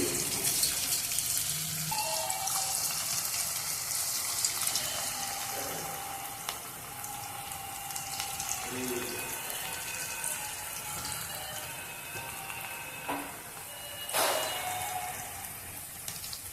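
Onion pakoda batter dropped into hot oil: a continuous crackling, bubbling sizzle with brief tonal scrapes and splashes, steady and moderately quiet for the whole stretch.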